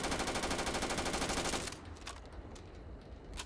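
Rapid automatic gunfire in the Starfield video game, a fast, loud burst of shots that stops abruptly partway through, followed by a few scattered clicks and faint noises.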